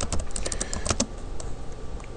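Rapid typing on a computer keyboard while entering a Python script name in the nano editor, a close run of quick key clicks with a few louder taps and no talking.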